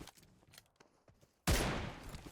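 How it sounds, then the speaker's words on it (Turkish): PUBG Mobile gunfire, played on an emulator, sits as faint, scattered pops for the first moments, then one loud, sudden shot blast hits and slowly decays. "Şöyle bir tane şat atayım. Ya da şöyle bir tane vuruş yapayım lan."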